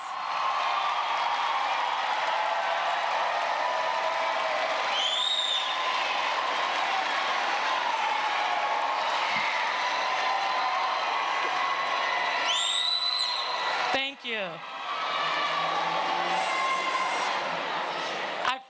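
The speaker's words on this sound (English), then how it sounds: "I'd like for you to stand and turn around and give your village a round of applause." A graduation ceremony audience claps and cheers in a long, dense, even roar, with a couple of whoops rising above it and a brief spoken thanks near the end.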